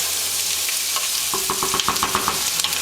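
A tomato sauce seasoned with freshly ground black pepper sizzles in a pan while a utensil stirs through it, with a run of quick, close scraping strokes over the steady frying hiss.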